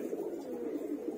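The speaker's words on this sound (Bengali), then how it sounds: "ফ্যান্সি আইটেমের কবুতর দেখালাম।" Fancy pigeons in a loft coo in a steady low murmuring drone, close and continuous, with no talking.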